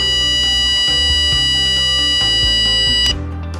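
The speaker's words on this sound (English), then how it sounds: "The device beeps continuously while holding the sound button." An electronic handheld device in its sound mode beeps continuously while its button is held, a loud steady electronic tone with a series of short clicks, then it cuts out near the end.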